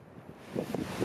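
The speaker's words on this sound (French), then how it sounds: "Le vent commence à souffler assez fort" Strong wind at about 4700 metres altitude on a cold mountain bike ride, low buffeting gusts rumbling against the microphone, rising toward the end, with no voices.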